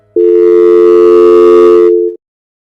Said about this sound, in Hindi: वह तुरंत अपने भाई अशोक को फोन करता है।